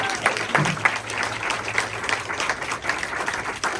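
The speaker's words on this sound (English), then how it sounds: "we're gonna do a lot of clapping today, so let's practice right now" An audience applauds as a practice round at a gathering, steady dense clapping filling the room at moderate loudness, with a brief low voice early on.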